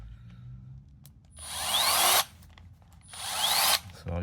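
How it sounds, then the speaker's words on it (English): Power drill fitted with a 90-degree angle adapter, used for installing a carbon fiber front lip and side skirts on a Lexus IS500; two loud whirring bursts of about a second each, close by, separated by a quieter pause. "This is a 90-degree adapter for a drill."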